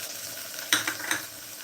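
Masala being stirred into a frying chickpea curry, a soft sizzle broken by a few quick scraping stir strokes against the pan, with no talk.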